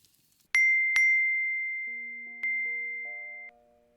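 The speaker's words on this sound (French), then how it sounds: "Mon téléphone n'arrête pas de sonner depuis 2 heures." Phone chiming with notifications, two sharp bright dings in quick succession followed by a third, each ringing out and slowly fading, over a soft low tone in otherwise quiet surroundings.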